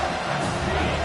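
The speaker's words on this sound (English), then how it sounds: "this crowd is tearing the lid off this place" A college football stadium crowd at a South Carolina game roaring loudly, a dense continuous wall of cheering noise with a voice faintly under it.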